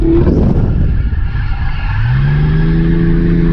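A Mazda RX8 drifts on light throttle, its engine a loud, steady rotary drone close by, with a tire squeal rising in pitch and holding toward the end, and no talking.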